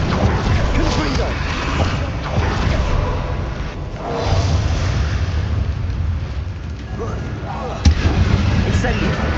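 Blasting spell explosions and combat effects in the fantasy game Hogwarts Legacy, a dense, loud, continuous rumble of booming impacts with a sharp crack near the end, no clear speech.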